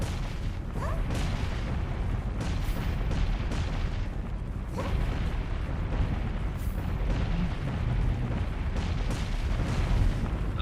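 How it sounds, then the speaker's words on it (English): Gauntlet weapons in Gunfire Reborn fire laser beams in a continuous dense barrage of booming, crackling blasts, loud and close with no pauses. "So there are a set of weapons that are gauntlets in this."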